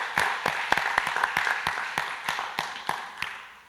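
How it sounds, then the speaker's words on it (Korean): A church congregation at a Sunday evening service claps in a slow, steady rhythm, roughly a dozen distinct claps evenly spaced, moderately loud and fairly close. "하나님께 영광의 박수 올려드리겠습니다"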